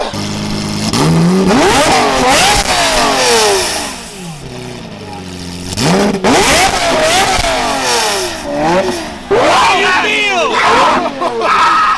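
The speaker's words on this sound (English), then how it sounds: "Can I start this and rev it?" A Mercedes-Benz engine is started and revved hard, loud and close, climbing and dropping in pitch in repeated surges with brief idle dips between, while voices are heard around it.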